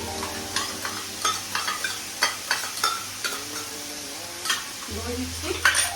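Yogurt is spooned into a tomato curry in a frying pan and stirred, the spoon scraping and clinking in short irregular strokes over a soft, steady sizzle, with a low hum underneath.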